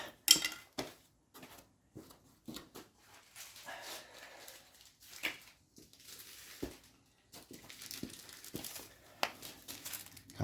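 Packaging being opened for a new 2024 Chevrolet Tahoe assist step insert in a garage, a series of crinkling and rustling bursts with sharp clicks and gaps of quiet between them.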